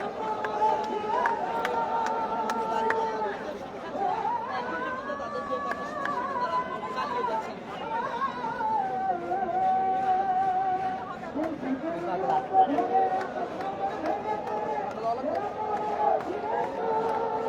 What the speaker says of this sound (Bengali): দেশাত্মবোধক গান সহ বিভিন্ন স্লোগান দিচ্ছেন।